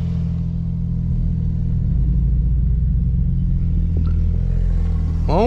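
A Porsche Turbo S or BMW M3 on a race track, a deep close engine rumble holding steady in second gear and rising in pitch near the end as it accelerates, with no talk.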